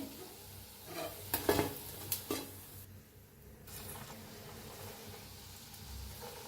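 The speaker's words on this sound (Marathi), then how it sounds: "घालताच वर यायला लागलेत मस्त आहेत पकोडे एकदम तळून घेऊया" Pakoras (bhaji) frying in hot oil in a kadhai, a soft low bubbling sizzle with a few sharper clinks and stirring scrapes early on, fairly quiet throughout.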